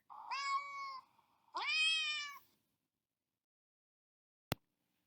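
A pet cat gives two clear, drawn-out meows close by, followed by silence and a single sharp click.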